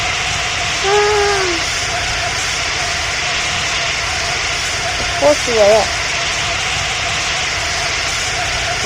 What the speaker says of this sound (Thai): ท่านผู้ชมเครื่องบินขึ้นแล้ว